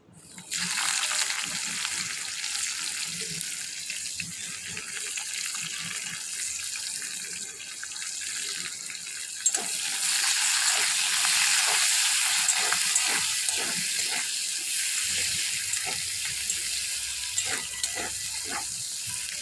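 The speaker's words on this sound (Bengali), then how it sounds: "হাফ চামচ সাদা জিরে এবার আমি দিয়ে দেবো কুচানো পেঁয়াজ" Chopped onion hitting hot oil seasoned with cumin seeds, bursting into a loud sustained sizzle that swells midway, with stirring clicks and scrapes near the end and no talking.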